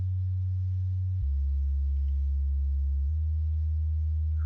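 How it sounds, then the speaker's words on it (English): A simple sub bass synth plays a pure, deep sine-like tone, holding one low note, then stepping to a new pitch twice, clean and steady with nothing else heard. "It's just a simple sub bass,"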